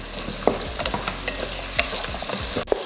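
Mixed vegetables sauté in a pan for sambar, giving a soft, continuous sizzle with intermittent clinks and scrapes from a stirring spoon, close up and without any talk.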